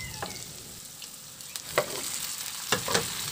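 Blanched pork hock sizzles in a pan with onions, a steady close frying hiss broken by occasional sharper pops and stirring clatter.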